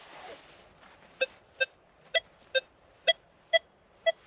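A Rutus Versa NC metal detector passing over a denarius coin gives seven clear, evenly spaced electronic beeps, each short and bright over a faint background hiss.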